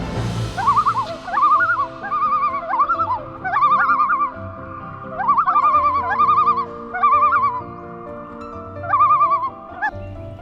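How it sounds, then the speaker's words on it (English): Eerie, wavering common loon calls ring out in repeated phrases over a quiet, open morning background, rising and falling with short pauses between them. "we woke up to the eerie call of the common loon"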